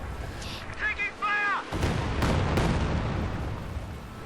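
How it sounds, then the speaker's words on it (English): Katyusha rocket artillery barrage firing in a video game: brief vocal-like in-game calls, then a sharp burst and a rolling series of booms and cracks that fade into a lingering rumble. "Katyusha firing as well, but it looks like that barrage was a little off"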